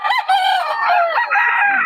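Sweater Hennie bloodline gamefowl rooster crowing loudly and close, one sustained harmonic crow lasting nearly two seconds with no talk over it.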